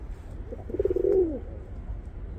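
A racing pigeon coos once in a loft, a soft low rolling call rising and falling in the middle, fairly close against a quiet background hum.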